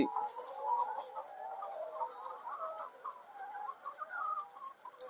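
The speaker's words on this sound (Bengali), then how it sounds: "গরমে হাঁপাই যাচ্ছে মুরগিগুলা" Heat-stressed chickens pant and make soft, rapid clucking and breathy calls close by, a continuous restless murmur with no clear talk.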